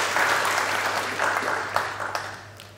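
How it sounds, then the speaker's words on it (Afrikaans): A church congregation at a Dutch Reformed service in Hartswater claps together, a dense wash of applause that slowly fades away over a low steady hum. "Ja, klap maar hande."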